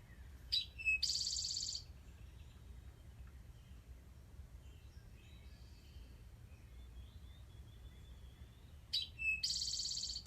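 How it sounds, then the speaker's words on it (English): Recorded eastern towhee song played back outdoors, heard as two short bright phrases, a quick note followed by a buzzy trill, one at the start and one near the end, separated by quiet background hum. "I'm just going to play the song of an eastern towhee, which is one of my favorite birds."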